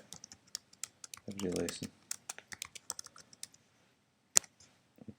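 Computer keyboard typing in a quiet room: a run of quick, light key clicks, mostly soft and close, with one sharper louder tap near the end. A person speaks briefly partway through.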